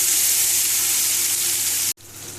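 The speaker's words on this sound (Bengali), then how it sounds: "এবার এর মধ্যেই আমি পেঁয়াজ রসুন বাটাটা দিয়ে দেব।" Onion and garlic paste sizzles and fries loudly in a hot pan for a yogurt catla fish curry, a steady dense hiss that drops out briefly near the end before resuming.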